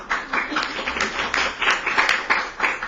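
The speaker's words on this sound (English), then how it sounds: "I would like to ask for a round of applause for the members of our panel" Audience applause for the members of a panel at a disaster risk management forum in Jeju, a steady crackle of clapping hands filling the room with small swells and dips over a few seconds.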